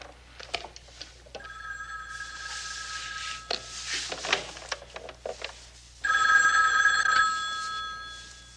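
A telephone rings in a 1970s police TV drama, two bursts of a bright electric bell, the first sustained over muffled background activity and a louder, closer burst near the end.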